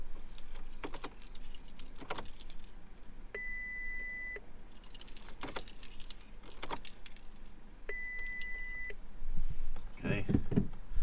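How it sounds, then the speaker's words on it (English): An ignition key turned in an MK4 Golf GTI to prime its upgraded fuel pump: keys jangle close by, two sustained dashboard beeps sound in turn, and a faint low hum and rattle build near the end. "Just going to prime it a couple of times."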